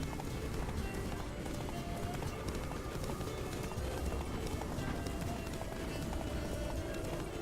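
Horse galloping in The Witcher 3, a steady, dense rhythm of hoofbeats running continuously under a busy game soundscape, loud and close throughout with no pause.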